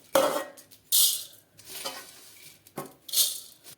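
Roasted, crisp puffed rice is scooped out of a pan into a vessel in a few short, rustling pours and clinks, separated by quiet pauses.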